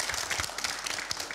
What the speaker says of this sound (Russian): Хорошо, спасибо, аплодисменты.